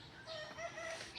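A rooster crows outdoors on a rainy-season morning near a mango tree, a short harmonic call rising and holding over soft background hiss, moderately near and alone without talk.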